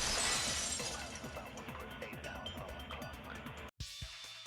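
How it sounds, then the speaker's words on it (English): A vase shatters in Danganronpa 2: Goodbye Despair: a bright crash opens into a scatter of tinkling, clattering shards that trail off over several seconds, then cut out abruptly before a brief quieter tail. "If it wasn't the window, then what broke to make that sound? It was the vase."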